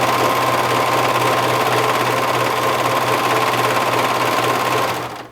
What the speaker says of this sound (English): getting over that little seam allowance can be a little hard for some cover stitch machines like mine